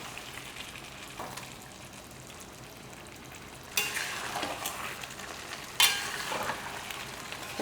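Blood fry with masala sizzles steadily in a pan while a spoon stirs it, giving soft scraping strokes and bursts of louder crackle over a continuous close frying hiss.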